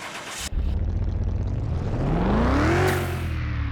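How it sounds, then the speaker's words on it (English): The Hammerdal Strale S engine in a car-mechanic video game starts with an abrupt catch, then holds a loud steady run as a rising turbo whine sweeps upward before levelling off. "Oop, making turbo noises."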